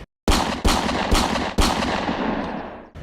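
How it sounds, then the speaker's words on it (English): Four pistol shots ring out in sequence, each a sharp, loud crack that lands at an uneven interval. The last shot trails into a long, fading echo, with no voices. "I fired 4 shots from my pistol into the black"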